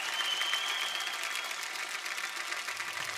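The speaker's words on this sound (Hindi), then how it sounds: "सूर्य के लिए जोरदार तालियां।" A studio audience gives a dense, steady burst of applause for a guest on a Hindi comedy talk show, sustained and fairly close throughout.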